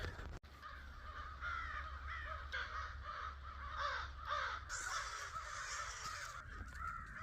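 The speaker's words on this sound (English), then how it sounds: "I was just swarmed by crows" A swarm of crows caws over open countryside. Harsh calls repeat in quick, overlapping succession, fairly close and continuous, with no voices.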